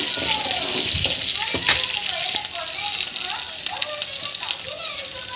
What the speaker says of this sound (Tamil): பச்சை மிளகா நல்லா கீறி போட்டு நல்லா சேர்த்து அதையும் நல்லா வதக்கி விடுங்க.